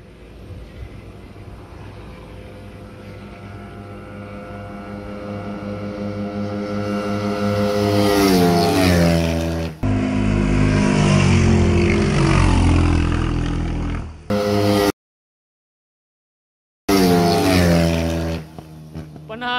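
Sniper and Raider FI motorcycles in a drag race roar loudly with rising revs and gear shifts, their pitch climbing as the engines accelerate, followed by a sharp cut to silence and then another burst of engine noise.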